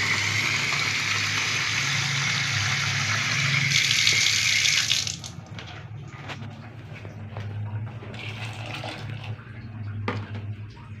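Tap water runs loudly into a cooking pot being filled for soup, a steady gushing hiss that stops about halfway through, followed by quieter kitchen clatter and handling noises.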